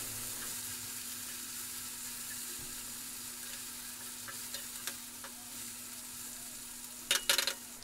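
Stuffed okra (bharli bhendi) fries in a pan with a steady soft sizzle, while a spoon scrapes and stirs in a few light strokes, ending in a burst of louder clinks near the end.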